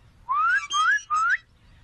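A person whistles three clear, rising notes in a row in the animated show Bob the Builder, each a short swooping call with small gaps between them, loud and close with no talking.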